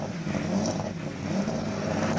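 A Ford Mustang race car launching at a Cape Town hillclimb, its engine roaring loud and close for a couple of seconds in a continuous rough growl.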